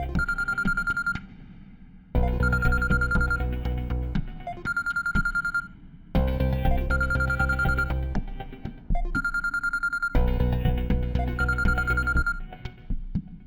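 A telephone rings in a bright electronic pattern, with four bursts about two seconds long separated by short pauses. The tone is loud and close, and no one speaks over it.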